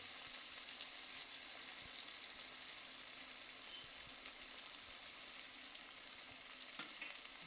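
Coriander-cumin powder and turmeric hit a hot pan for Swaminarayan khichdi, producing a soft, steady sizzle with occasional spoon taps and stirring clicks throughout, quiet and without talking.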